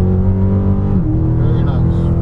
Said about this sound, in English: Squeeze the gas on.